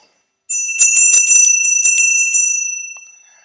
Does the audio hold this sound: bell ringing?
yes